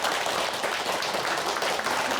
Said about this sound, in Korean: 박수 한번 크게 한번 쳐주세요